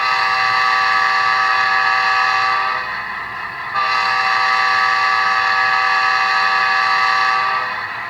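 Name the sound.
model train horn, K5LA and Hancock air whistle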